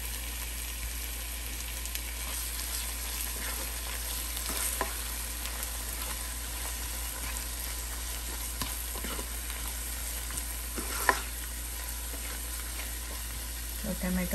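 A large tomato frying in a pan with chicken drumsticks for capsicum chicken, a soft steady sizzle and crackle under a low constant hum, with a few faint clinks of stirring.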